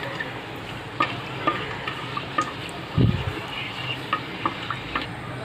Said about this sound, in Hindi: इसमें मैं खड़े गरम मसाले ऐड करूँगी,